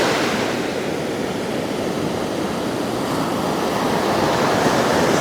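Sea waves wash up a Bulgarian beach where the water reaches far up the sand among beach chairs, a loud, steady, broadband roar of surf close by with no one speaking.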